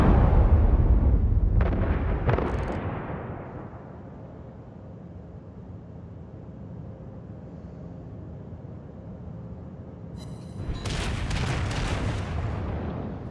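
Heavy naval guns in a warship battle video game boom in a loud burst, rumble away into quieter sustained noise, then erupt again in another volley of blasts.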